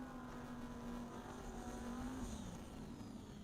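A drag racing street car at Texas Motorplex sounds distantly under steady crowd and track noise, its engine note holding and then dropping in pitch as it passes.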